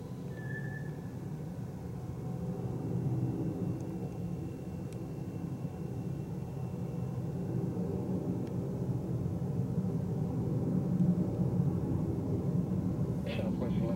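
A Delta Boeing 757 takes off from runway 19 left at Las Vegas McCarran International Airport, its jet roar a steady, broad rumble at a distance that swells slightly toward the end.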